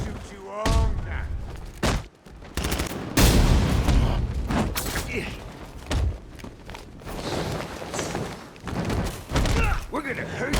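Gunfire and heavy thuds from combat in Batman Arkham Knight, irregular bursts of shots and impacts at close range, with character voices speaking over parts of the action.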